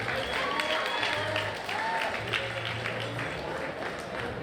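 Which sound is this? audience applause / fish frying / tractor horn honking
audience applause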